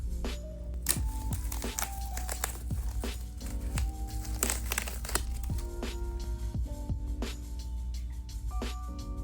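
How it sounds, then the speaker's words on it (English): Crinkling and rustling of packaging as a Dooney & Bourke Saffiano small domed zip satchel is unwrapped, with repeated crackling bursts over a low steady hum. "All right, let's unwrap this."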